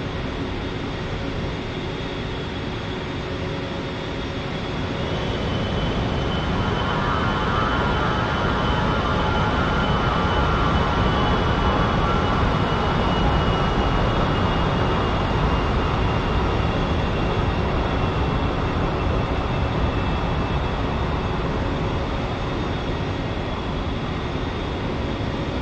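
An A-10C jet in the DCS flight simulator rolls down the runway for takeoff, its engine roar building after a few seconds into a steady, loud, sustained rumble with a droning whine, heard alone throughout.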